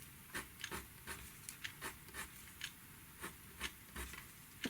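Repeated quick flicks of a colour pencil scratching across paper, a dozen or so short, soft strokes in an irregular rhythm, faint and close with no talking.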